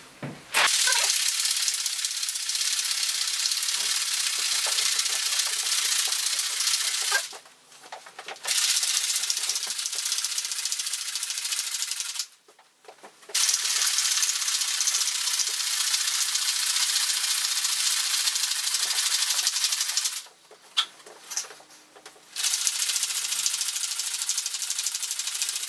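Cocktail shaker shaken hard and continuously for a Ramos Gin Fizz, making a loud sustained rattling hiss that runs in long stretches broken by three short pauses.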